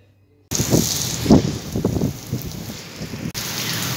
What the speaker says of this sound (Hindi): और जनाब तेज तूफानी हवाओं के साथ हो रही है आज बारिश